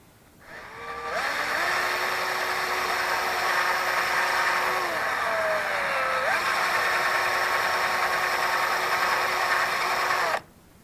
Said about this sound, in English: Just put it in my drill.